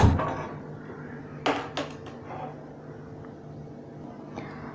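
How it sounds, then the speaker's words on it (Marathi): A metal pan is set down on a gas stove in a home kitchen while bombil fish fry is being cooked, giving a couple of sharp clanks over a quiet room. "एक पॅन ठेवूया गॅसवरती चांगलं गरम करून द्यायचं"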